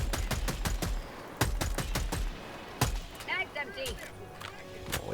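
Rapid bursts of sniper rifle gunfire in Helldivers 2, a string of sharp close shots followed by a few more spaced cracks, with a voice talking briefly between them.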